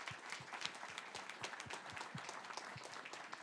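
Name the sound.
audience applause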